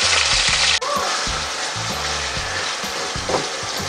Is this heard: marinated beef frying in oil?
yes